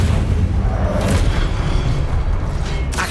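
An Incendio fire spell is cast in Hogwarts Legacy, giving a loud, deep whooshing burst of flame with heavy low rumble that holds steady, and sharper flares come near the middle and end.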